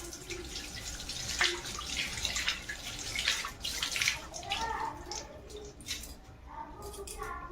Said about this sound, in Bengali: আচ্ছা, হাতটা ধুয়ে নিচ্ছি।